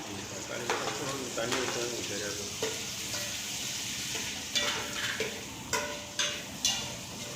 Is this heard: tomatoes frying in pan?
yes